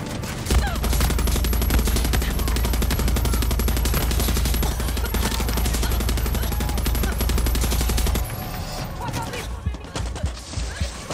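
Rapid automatic gunfire from a heavy-recoil weapon in Far Cry 6, a loud sustained stream of shots that cuts off and leaves scattered sharper cracks and clatter afterward.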